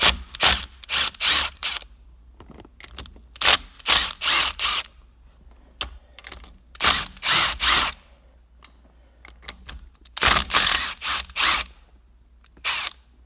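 A ratchet loosens the shifter body bolts on a Camaro transmission during a clutch replacement, sounding as rapid clicking bursts in repeated close, loud spurts separated by short pauses.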